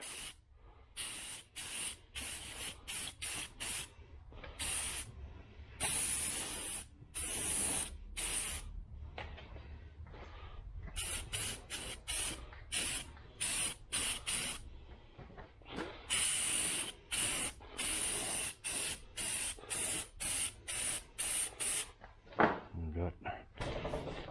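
Spray can bursts of satin black paint on a 1968 Chevelle Nomad dash part, many short loud hissing sprays in quick irregular succession, close up, with brief pauses between.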